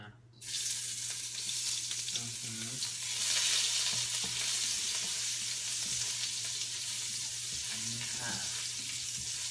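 Garlic stir-frying over high heat in a pan, a loud, steady sizzle that holds from start to finish with no one speaking, briefly swelling as it is stirred.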